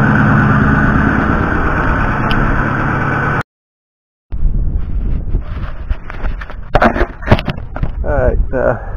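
Ford 6.4 Powerstroke diesel idling while warming up before an oil change, a steady loud rumble that cuts out abruptly partway through, followed by someone talking over background noise.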